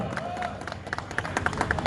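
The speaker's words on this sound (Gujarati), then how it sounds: "જેમના માટે જોરદાર તાળીઓ" Crowd clapping for a finisher at a municipal Fit India marathon in Jamnagar: a brief burst of scattered, quickening handclaps that builds near the end, mixed with people talking nearby.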